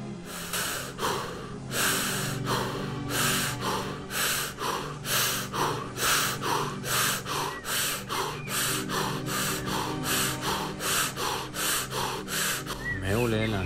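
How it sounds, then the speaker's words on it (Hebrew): Rapid, forceful breathing during a guided breathing exercise, a steady train of about two dozen sharp, loud inhales and exhales in even rhythm, close to the listener, ending with a brief tonal sweep. "תמשיכו לנשום."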